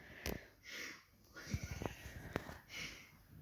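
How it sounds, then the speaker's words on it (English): A person takes a few short, sharp nasal sniffs close to the microphone, with soft breathy snorts between them and no speech. "Just have a good sniff."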